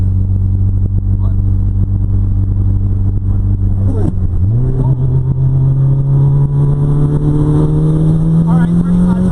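A 1992 Mitsubishi Eclipse GSX with a freshly repaired clutch drones loudly from inside the car while driving in fourth gear. The engine note dips briefly midway, then settles into a steady hum that slowly climbs in pitch.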